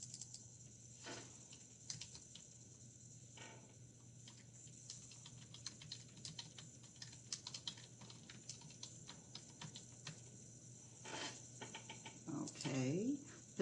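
Computer keystrokes tap close by in irregular bursts, with pauses between short runs of typing and a faint background hum, ending in a flurry of clicks.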